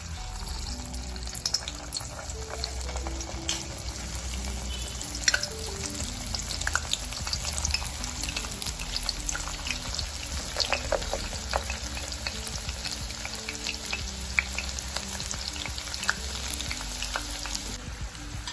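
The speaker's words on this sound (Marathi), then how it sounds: "आता आपण हे फ्रेंच फ्राईज तळून घेऊया." French fries deep fry in hot oil, a steady close bubbling sizzle that holds for about eighteen seconds with occasional stirring clinks and no speech.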